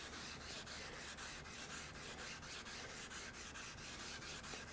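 Nagura lapping stone rubbed back and forth to flatten a sharpening stone, a gritty rasping scrape in a quick, regular stroke rhythm, close and quiet with no voices.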